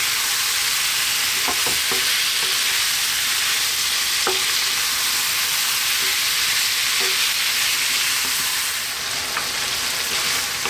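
Sliced tomato and potatoes sizzle in a pan over high heat, with a continuous loud frying hiss broken by repeated scraping stirs and soft clinks throughout.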